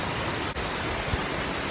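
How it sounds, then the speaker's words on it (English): Waterfall in Yosemite near El Capitan, heard as a loud, steady broadband rush of falling water that fills the scene close by without pause. "I'm heading in to see this waterfall"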